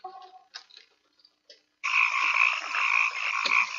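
At a poker game show table, a few faint brief noises give way to a loud, rasping frog croak that holds steady for about two seconds.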